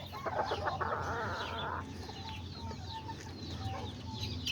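A broody hen near her nest of eggs with a white rooster about, giving soft, repeated clucks and low chatter close by among other farmyard chicken sounds.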